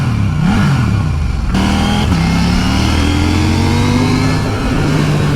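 A KTM 890 Duke GP motorcycle accelerates hard through the gears, its engine note climbing loud and close, dropping briefly at each shift before rising again over steady wind and road noise.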